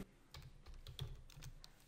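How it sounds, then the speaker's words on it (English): Typing on a computer keyboard while entering a command in AutoCAD, a quiet run of close, light key clicks at an uneven pace, with no talking. "So I'll type view using the keyboard"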